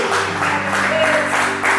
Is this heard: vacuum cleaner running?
no